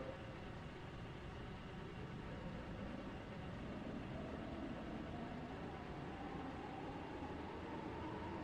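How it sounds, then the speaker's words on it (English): Low, steady rumble of a Class 143 train heard from inside the carriage while running, a continuous faint drone of engine and wheels with no pauses. "This train is for Esterfield."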